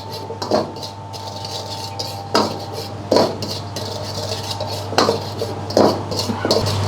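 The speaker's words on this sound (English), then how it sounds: "we fry the salt until you can see the color change" Dry salt being stirred in a hot wok over a gas flame while making Chinese chilli salt squid, with a steady low hum beneath and a series of sharp metallic scrapes and clinks from a utensil against the pan.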